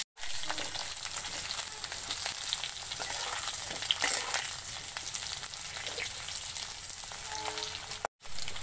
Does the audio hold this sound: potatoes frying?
yes